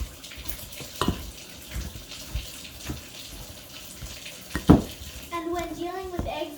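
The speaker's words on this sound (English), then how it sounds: "When you wash your hands, not just water" Water runs from a tap during hands-washing in a home kitchen while baking chocolate cookies, a splashing, uneven flow with a few louder knocks and a brief clatter near the end.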